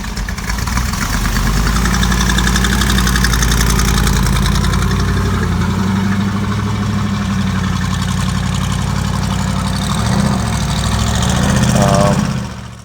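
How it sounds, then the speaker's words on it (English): A 1970 Dodge Challenger T/A fitted with an aftermarket exhaust idles with a loud, steady, deep rumble throughout, and the engine note swells briefly near the end. "now this is obviously not a factory exhaust. It's going to sound great."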